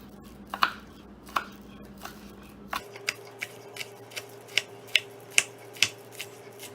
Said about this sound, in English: Next you're going to mince the green onions.